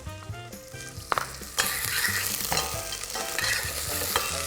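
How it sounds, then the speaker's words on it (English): Diced onion dropped into hot oil in a pan, a sudden sizzle bursting in and continuing as steady frying with stirring, under background music. "And we want to get that oil nice and hot, and to that we're going to add a diced onion"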